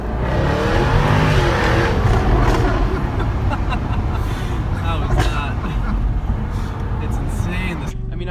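A loud Volkswagen Mk7 GTI engine with an APR Stage 2 modified exhaust revs hard and roars steadily, rising and falling in pitch, with a sharp cutoff at the end.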